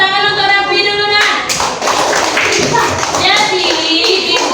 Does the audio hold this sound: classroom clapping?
yes